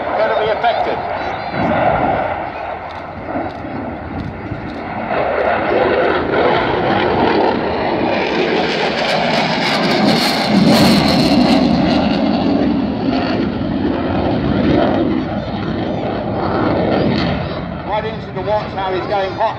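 A jet aircraft flies an air display at Dunsfold, its afterburners roaring as it passes, building to a loud, broad, rumbling peak midway and then fading into a distant whine, with someone talking over it throughout.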